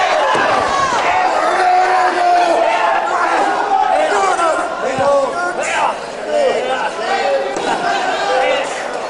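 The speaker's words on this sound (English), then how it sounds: "Reaction from the crowd where McManus is thrown out of the ring is pretty unusual" A loud, close crowd at a World of Sport wrestling match roars and shouts steadily, rising and falling in waves, with a commentator speaking over it.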